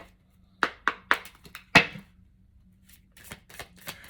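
Tarot cards shuffled by hand in a few quick crisp bursts, then a softer run of light riffling taps, close and clear with no talking.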